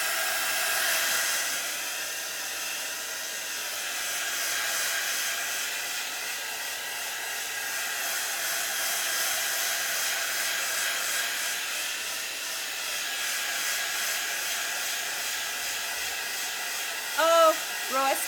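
A hair dryer blows steadily on a paper bag page, its close, continuous whirring hiss holding for a long stretch with only slight swells, then giving way to a few brief clicks and knocks at the end.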